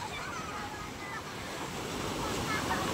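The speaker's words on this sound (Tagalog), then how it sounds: "Malalaki ang alon ngayon." Sea waves at a busy fish port in Tanza, Cavite, a continuous rough wash of surf mixed with wind buffeting the microphone, steady and fairly loud throughout.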